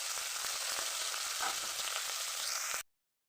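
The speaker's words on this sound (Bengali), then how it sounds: "দেখো আমার মাছ কিন্তু ভাজা হয়ে গেছে, এক পাশ উল্টিয়ে দেবো, উল্টিয়ে দিলাম।" Fish frying in hot oil in a pan, flipped partway through, gives a steady close crackling sizzle with no voices, then cuts off abruptly.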